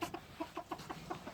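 A Japanese silkie hen clucks in a series of short, evenly spaced calls, close and fairly quiet, with no talking over it.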